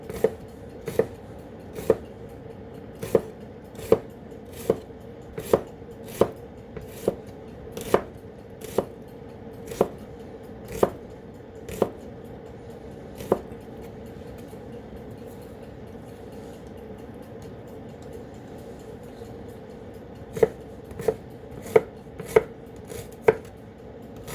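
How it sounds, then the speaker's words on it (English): A knife chops shallots on a board in sharp, evenly spaced single knocks, close and distinct over a faint background hum. A quiet pause interrupts the chopping midway before a short final burst. "And I'm cutting them just like I cut the onions the other day, leaving the furry bit on."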